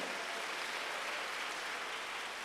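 Steady, sustained applause from a church congregation during a sermon, an even wash of many hands clapping at moderate, slightly distant level with no voices.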